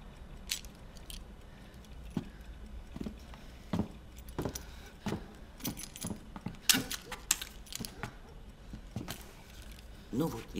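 A bunch of keys jangles and clinks in bursts, handed over in a tense drama scene, with sharp metallic rattles scattered among quiet pauses while people talk nearby.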